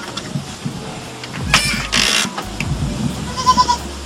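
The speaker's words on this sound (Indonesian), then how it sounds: "sebetulnya ini adalah kandang kambing" Goats in a pen on an organic farm, with brief bleat-like calls and shuffling noises over low rumble, a couple of louder bursts midway and faint chirpy tones near the end, no talking.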